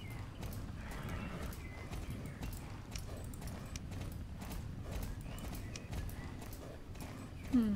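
Steady, rapid hoofbeats of a horse in the video game Star Stable clatter continuously at moderate volume, and a brief whinny comes at the very end.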